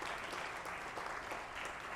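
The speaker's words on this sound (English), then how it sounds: "Give a big round of applause for the Member Finance" An audience applauding at a telecom industry event, dense steady clapping from a large crowd, continuous for the whole stretch and with no talk over it.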